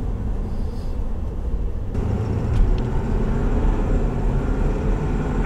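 A new Ford Super Duty pickup accelerates at partial throttle, probably heard from inside the cab, as a steady low engine and road rumble that stays moderate and even throughout.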